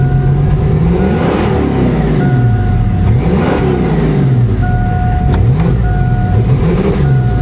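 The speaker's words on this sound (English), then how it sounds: "watch when I rev it." A Ford Mustang GT with severe misfires revs steadily, its engine note rising and falling in uneven, rough pulses, loud and close with no talking.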